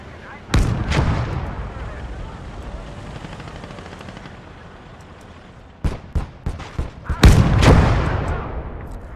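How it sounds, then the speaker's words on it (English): Enemy artillery and gunfire in the Ostfront HC war game: a sharp heavy blast opens, then after a lull a rapid cluster of loud shots and booms follows, close and echoing. "Achtung, feindliches Geschütz!"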